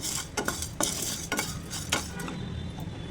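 Dry ingredients being roasted in a pan over a low flame, with a spoon scraping and stirring in a few distinct strokes over a soft, continuous sizzle.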